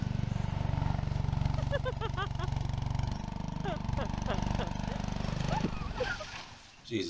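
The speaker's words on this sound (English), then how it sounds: "It's a good thing the lawnmowers have automatic shutoff." A lawn mower engine runs with a steady, buzzing drone that holds for several seconds and then drops away near the end, while voices are heard over it.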